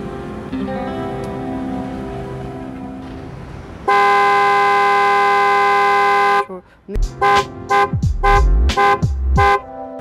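A Tata Punch's aftermarket horn honks: first a long steady blast, then a series of short, loud toots in quick succession, close by.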